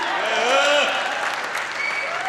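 Audience applause at a political speech on the currency ban, a steady, dense burst of clapping from a crowd, with a voice carrying over it.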